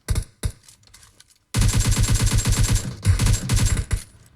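Automatic gunfire in PUBG Mobile: two isolated shots, a short quiet gap, then a loud rapid burst of evenly spaced close rounds, a brief break and another fast burst.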